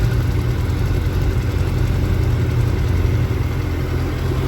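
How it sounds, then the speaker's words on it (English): A Suzuki Hayabusa motorcycle on its stock exhaust idles with a steady, deep, close-up engine rumble, holding an even level throughout without revving. "This is how the stock Busa sounds, and it sounds pretty good to me."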